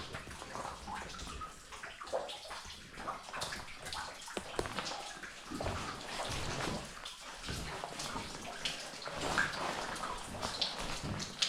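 Water flows and drips steadily inside the Mouliéro cave, a continuous close wash of trickling and patter with scattered drops, no voices.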